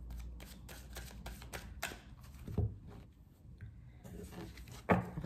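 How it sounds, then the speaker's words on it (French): Tarot cards are shuffled by hand, a quiet run of soft riffling flicks and papery slides with short pauses between bursts. "On va bien mélanger les cartes."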